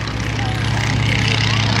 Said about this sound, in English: Slip that airplane right down the shoreline there, just a few feet above the ground.